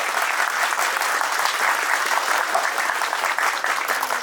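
Audience applause at the opening ceremony of the Bafra chamber of trade and industry: dense, even clapping from a large crowd, sustained and fairly loud, with no talk over it.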